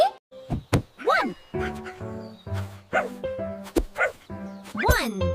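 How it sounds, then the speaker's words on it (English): Dog barking in a children's counting song, several short bright barks and yips spaced through the clip, mixed with music and thumping sounds. "One dog."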